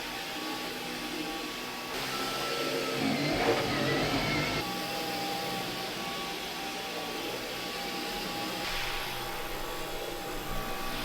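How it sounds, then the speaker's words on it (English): A vacuum cleaner runs steadily at home, a continuous motor whine and airflow hum at moderate level, slightly rising around the middle, with no speech. "I'm gonna vacuum"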